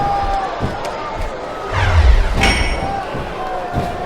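A virtual arena crowd in WWE Smackdown vs RAW 2007 on Xbox 360 roars and cheers through an Ironman match between Candice Michelle and Mickie James, with slams and thuds landing over the steady crowd noise and commentary.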